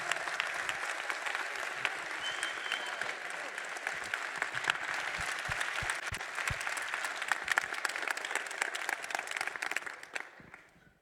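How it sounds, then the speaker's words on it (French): An indoor audience at a French event gives sustained applause, a dense wash of clapping that holds steady for about ten seconds before tapering off. "On peut les applaudir encore une fois."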